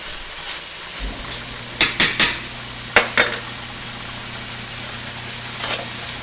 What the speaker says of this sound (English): that butter melt down just a slight bit more. Kind of mix everything together.